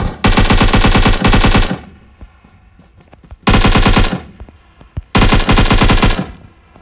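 Rapid automatic gunfire from a powerful new weapon in the battle royale game PUBG, fired in three long, loud bursts separated by short pauses with faint shots and echoes between them.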